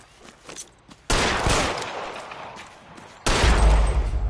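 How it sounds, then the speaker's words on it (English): Two loud bursts of gunfire during a police foot chase in L.A. Noire. The shots ring out suddenly after quieter rustling, and each burst is sharp and close before it tails off. "How did that kill him by shooting him in the foot?"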